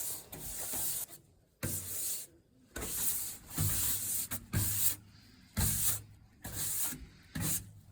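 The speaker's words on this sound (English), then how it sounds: "So that half has been sanded." Wooden slab table being sanded, repeated rough scraping strokes in bursts of about a second each with short pauses between, close and moderately loud with no talk.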